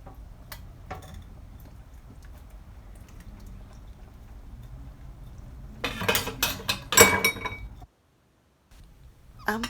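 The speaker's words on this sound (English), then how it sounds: "So let's spoon some of this out and head to the table." Spoon scraping and clinking against a pot and bowl while coconut curry lentil soup is served, a short cluster of close metallic clinks and scrapes after quiet kitchen background.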